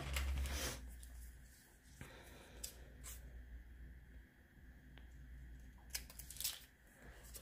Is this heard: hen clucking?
no